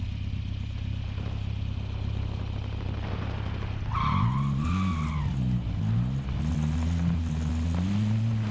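A car in Call of Duty: Modern Warfare drives with a steady engine hum, then its tires squeal loudly in a sharp skid partway through, followed by wavering engine and tire tones as it keeps moving.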